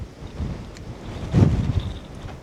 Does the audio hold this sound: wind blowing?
yes